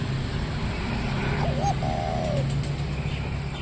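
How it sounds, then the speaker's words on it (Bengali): Dove calls play back from a phone speaker outdoors, a soft rolling coo phrase rising and falling once over a steady background hum of ambient noise. "ফোনে হচ্ছে ঘুঘুর ডাকের ভিডিও চালাবো"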